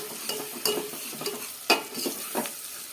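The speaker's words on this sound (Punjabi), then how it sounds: "ਹੁਣ ਆਪਾਂ ਪਿਆਜ਼ ਭੁੰਨਾਂਗੇ" Onions frying in a pan for a chana dal and pumpkin sabzi, soft sizzling broken by irregular scraping stirs and a few sharper utensil knocks, close and moderately loud.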